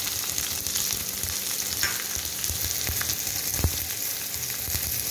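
Two dry red chilies and chopped onions frying in hot oil for a Bengali fish-head dal, with a steady close sizzle broken by scraping stirs and a sharp knock of the spoon.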